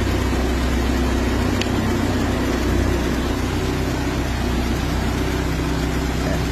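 A Mitsubishi Lancer engine runs after repairs to overheat damage, holding a steady, loud idle with a constant low rumble and no change in pace, close by, with no speech.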